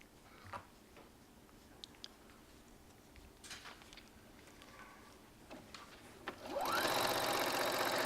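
A sewing machine stitches strips of fabric together, a steady fine mechanical chatter that is quiet at first and then swells into a loud, continuous whirring run over the final second or so.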